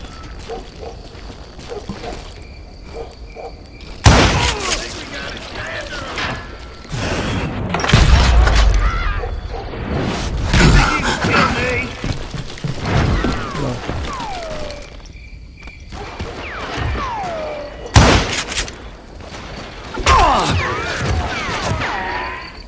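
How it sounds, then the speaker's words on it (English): Gunfire in the western shooter Call of Juarez Gunslinger: several loud, sharp reports scattered through the span, one near the start and another later, amid busy game effects, clattering and a voice talking. "watch where you're shooting"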